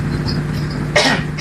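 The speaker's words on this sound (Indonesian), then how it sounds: "Batuk." A single short cough bursts out near the end over a steady low hum, close and fairly loud, with no talking.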